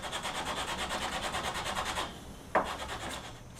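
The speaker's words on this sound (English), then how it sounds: "I'll finish that off by hand with some sandpaper wrapped around a piece of dowel" Hand sanding of a wooden Stratocaster guitar neck with sandpaper wrapped around a dowel, steady rhythmic back-and-forth rasping strokes close up, pausing briefly before a sharp knock and a few softer strokes.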